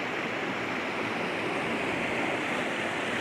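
Steady, even rush of river water at a rocky swimming hole near Mammoth Pool and Granite Creek, south of Yosemite, a constant broadband wash with no talk.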